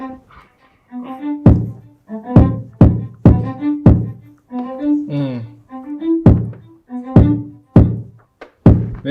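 A programmed drum pattern plays back with punchy kick-and-snare hits in an uneven, syncopated rhythm, layered with short melodic synth stabs and a brief vocal-like chopped sample, loud and close with no talk over it.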